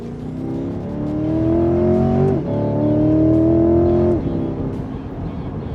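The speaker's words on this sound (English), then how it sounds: "You can hear the engine is loud, but it's not crazy loud" A Chevrolet C8 Corvette Stingray engine while driving: a steady, fairly loud rising drone of acceleration that drops briefly with a quick gear shift and climbs again, then eases off, heard from inside the car.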